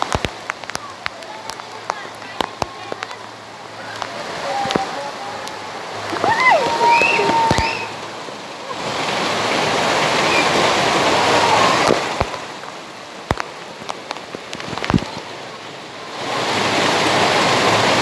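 Heavy rain pours down in a steady, loud hiss that rises and falls in broad washes, with sharp clicks of drops striking nearby surfaces and voices talking at times.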